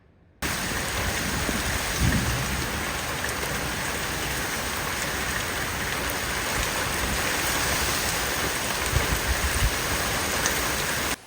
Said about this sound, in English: we just got a pop-up shower